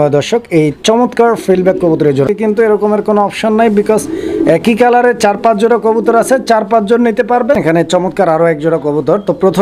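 Fancy pigeons for sale at a pigeon market coo in low, rolling repeated calls, steady and close, with a voice or other tonal sound overlapping throughout.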